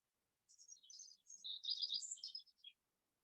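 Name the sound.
birds chirping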